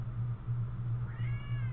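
A cat gives a faint, drawn-out meow rising near the end, over a low rhythmic hum and background hiss.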